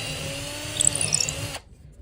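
Power drill with a bit boring through a piece of wood, a steady whining motor drone with rising grinding bursts as the bit cuts through, then stopping abruptly near the end.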